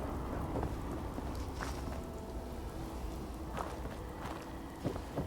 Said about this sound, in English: wonderful it'd be to get out of this infernal rain